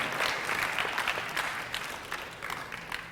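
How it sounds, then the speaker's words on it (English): Young people at a school remembrance opening ceremony give themselves a round of applause, a dense, moderately loud patter of many hands that thins a little toward the end. "you should give yourselves a round of applause for that"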